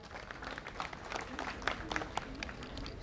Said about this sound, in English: Let's give it a round of applause for Rupanshi.